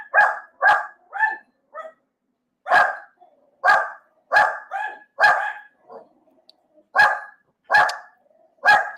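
Household dogs bark in short, loud bursts, close by, about a dozen barks in uneven clusters separated by brief silences, with no talking between them.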